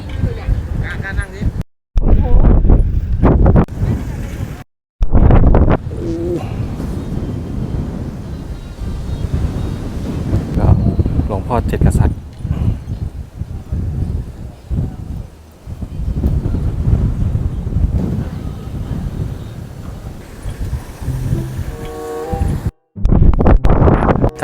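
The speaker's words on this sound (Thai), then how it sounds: "ลมแรงมาก" Strong wind buffets the microphone while cycling at a hilltop viewpoint with giant wind turbines near Khao Yai Thiang in Korat, Thailand, a loud rumbling roar that persists almost throughout with brief dropouts, and a voice talks over it.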